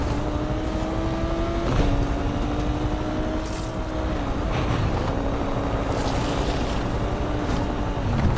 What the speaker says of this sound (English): Helicopter is doing the chase